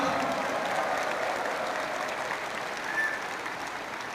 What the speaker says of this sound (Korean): 여러분, 그러면 박수로 그 제안을 받아주시기 바랍니다.